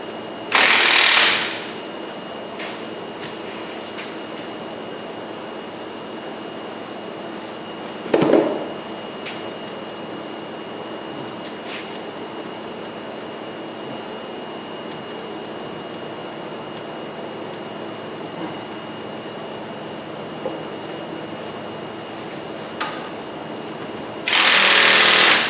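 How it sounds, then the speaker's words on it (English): An impact gun tightens bolts on the wheel bearing of a 1999 Jeep Grand Cherokee in a garage, with short loud rattling bursts at the start, one brief burst midway and another at the end, separated by quiet stretches. "we tightened it up with the gun"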